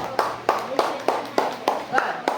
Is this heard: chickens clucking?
no